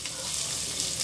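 Haleem being tempered with a bagar of hot oil, giving a steady, close, dense sizzle that runs unbroken without pause.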